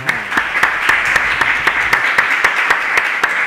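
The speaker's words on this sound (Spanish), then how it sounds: "yo creo que le vamos a dar un aplauso, ¿no?" Applause for an author at a literary event in Málaga, a modest audience clapping steadily with distinct individual claps standing out, moderately close, with no talk over it.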